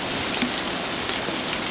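Steady, loud rain pours down on a trek toward a large cave in the Caucasus mountains near Psebay, Krasnodar, a dense, even hiss of drops with no talking.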